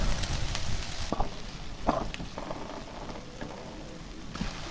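Chopped onions hiss and crackle as they drop into frying spices, a steady sizzle with scattered sharper pops and no talking.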